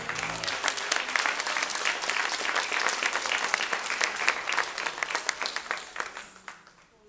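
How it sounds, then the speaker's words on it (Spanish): A large church congregation applauds steadily with dense, continuous clapping that tapers off and fades near the end. "Dele un fuerte aplauso al Señor."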